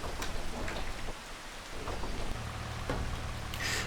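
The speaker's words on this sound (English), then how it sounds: "It is still raining though." Steady rainfall in a Farming Simulator 25 farm scene, a continuous hiss of drops on surfaces with occasional sharper spatters and a low rumble of thunder underneath, fairly faint overall.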